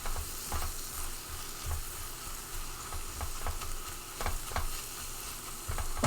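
Garlic confit sizzling in a pan, a loud continuous hiss with a spoon stirring through it in repeated soft scrapes and knocks, close and without talk.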